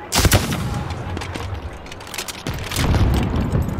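Bursts of gunfire from Call of Duty on the Fortune's Keep map crack loudly, a couple of sharp shots near the start and another cluster toward the end.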